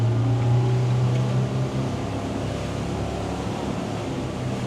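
A Delta 33 Open boat with twin Mercury V10 outboards drones steadily and loudly at close range, a low engine hum that shifts slightly early on as it gets up to speed, with wind and water rushing throughout.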